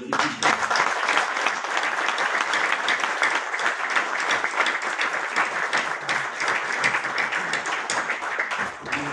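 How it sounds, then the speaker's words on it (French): Audience applause at the general assembly of Morocco's National Olympic Committee in Rabat, honouring the president of the Moroccan football federation: dense, sustained clapping from a large crowd, steady and loud throughout. "Et je voudrais que vous vous joigniez à moi pour applaudir Monsieur le Président de la Fédération du Poids marocain de football."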